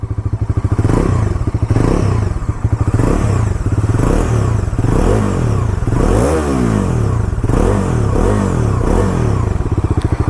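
A Bajaj Dominar 400 motorcycle engine revs repeatedly, its exhaust rising and falling in loud throaty bursts with some mechanical clatter, close by and with no talking.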